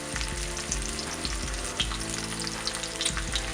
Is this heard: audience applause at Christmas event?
no